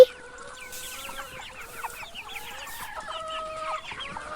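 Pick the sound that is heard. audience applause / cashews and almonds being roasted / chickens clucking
chickens clucking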